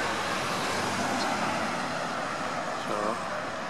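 Steady roadway traffic hisses and rumbles around a bus stop, continuous and moderately loud, with vehicles passing nearby and no clear talking.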